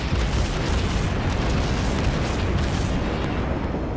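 Naval guns on a Tier III Bogatyr Russian cruiser fire shells in World of Warships, a dense, continuous rumbling barrage of booms that fills the whole stretch at high level.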